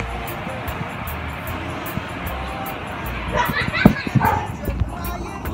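A large pregnant dog gives a few soft yips and barks near the end, faint and brief beneath a steady background hiss, with people speaking nearby.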